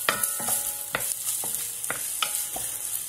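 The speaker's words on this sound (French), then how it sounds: "j'ajoute l'oignon haché, donc on va faire fondre à petit feu dans le beurre" Chopped onion cooks gently in butter in a pan over low heat for a risotto, giving a soft, steady sizzle broken by several scrapes of a spoon stirring through it.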